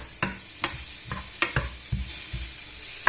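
Meat and chorizo sizzle steadily in a frying pan, with a spoon or spatula stirring and scraping the pan in regular strokes, close up.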